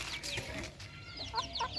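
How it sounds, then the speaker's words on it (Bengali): A mother hen on a small village farm clucks in a few soft, close bursts over quiet outdoor background, with bright chirps near the end. "ওই যে মুরগির মা হেঁটে যাচ্ছে"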